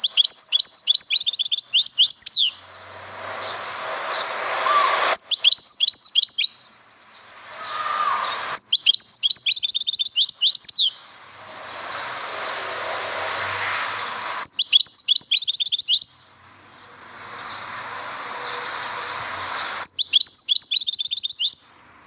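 A songbird sings the leg leg note of Algerian birdsong, repeating bright, rapid trilled phrases in regular bursts, separated by breathy, noisy passages, the pattern cycling several times.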